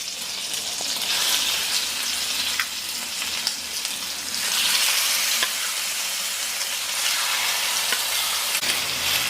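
Marinated chicken fries in hot oil in a pan, giving a loud, steady, close sizzle that swells and settles throughout with no talking.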